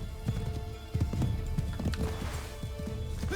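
A horse gallops in Assassin's Creed 3, hooves thudding in a fast, uneven clip-clop rhythm, close and moderately loud over a soft ambient background, with no talk.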